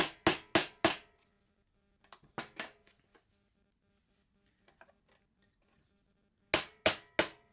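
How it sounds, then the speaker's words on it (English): Sharp metallic hammer strikes knock rivets out of a KTM Duke's stock exhaust, three quick blows at the start, scattered lighter taps and clinks in the middle, then three more loud strikes at the end. "All I needed to do was remove the rivets so that the rivets wouldn't get in the way"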